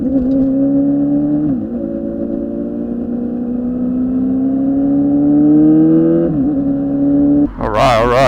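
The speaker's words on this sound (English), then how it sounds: "Just got to wait for my bike to warm up" A motorcycle engine warming up, idling steadily and loudly nearby, its pitch rising slowly, with a couple of brief revs, before a quick throttle blip at the end.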